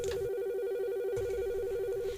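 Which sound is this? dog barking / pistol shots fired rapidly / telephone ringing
telephone ringing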